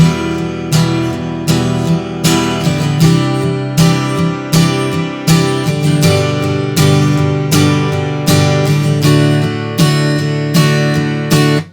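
Strummed guitar chords play a steady, loud pattern, with regular rhythmic strokes and no voice over it.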